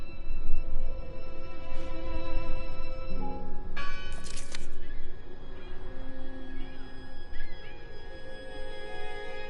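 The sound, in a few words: church bell ringing in Draugen video game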